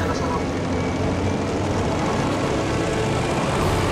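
A propeller airplane engine drones steadily and loudly throughout a Battlefield V dogfight over Japan, a continuous broadband roar with no break.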